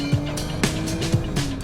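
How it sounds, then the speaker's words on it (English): A Lotus Emira's supercharged engine starts up with a steady, thin whine holding beneath a few low thumps and a rumbling idle, close and moderately loud. "hear that supercharger whine."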